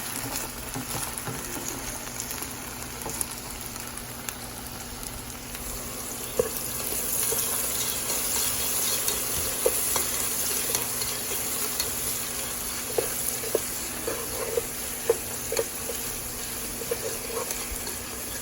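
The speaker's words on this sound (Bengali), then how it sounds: "আর একটু ভালো করে নেড়ে চেড়ে দিলাম আমার পেঁয়াজটি" Onions sizzle and crackle in a pan for biryani as they are stirred, a steady frying hiss with scattered scrapes and soft clatters throughout.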